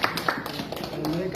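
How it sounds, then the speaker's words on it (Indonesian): A crowd claps in a burst of sharp, overlapping hand claps at a court hearing on a verdict in the Victor Yeimo criminalization case, with a voice speaking over the applause. "Ya, ini kita tepuk tangan dulu."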